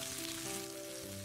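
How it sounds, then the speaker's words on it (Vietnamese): Minced pickled shallots fry in hot cooking oil with a steady, dense crackling sizzle that is close and constant, with no voices. "Sau đó cho củ kiệu đã băm nhỏ vào và phi cho vàng."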